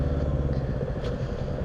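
A Royal Enfield Bullet 350 motorcycle on the move gives a steady, low engine throb with faint clatter, close and continuous for a brief stretch.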